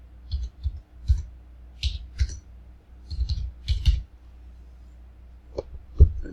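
Computer keyboard keys click and tap in short irregular bursts, a few strokes at a time with brief pauses between, close and fairly quiet, while information is entered into an online application form; no voices.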